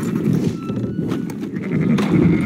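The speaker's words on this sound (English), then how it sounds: "Fine sheep." Sheep bleat loudly and close in the Red Dead Redemption 2 game, overlapping wavering calls from a flock filling the short stretch with no talking.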